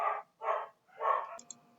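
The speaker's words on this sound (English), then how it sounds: "sorry I had to pause the video because the dogs outside were so" Dogs outside bark three times in quick succession, fairly loud and close, followed by a brief clatter; no one talks.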